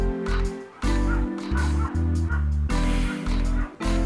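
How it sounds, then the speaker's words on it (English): A neighbor's dogs bark outside in a run of sharp, repeated yaps and whines, loud and fairly close, with bursts coming every half second or so and brief pauses between. "my neighbor's gotta let out his dogs"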